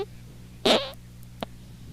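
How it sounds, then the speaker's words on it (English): A single short, loud fart, close to the mic, followed a moment later by a faint small blip, otherwise quiet. "That was a better fart than I thought it would be, man."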